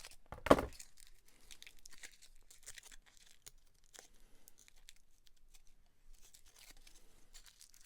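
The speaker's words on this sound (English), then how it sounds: "Let's cut that bit away and cut that way." A piece of material is cut away, with one sharp tearing snip near the start followed by quiet, sparse crinkles and small clicks of handling close by, with no talk.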